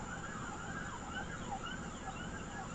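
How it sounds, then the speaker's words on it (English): Emergency sirens wail in Haifa, a distant, faint, rising and falling siren that runs steadily alone. "You hear police sirens or ambulance sirens or fire sirens or some type of siren"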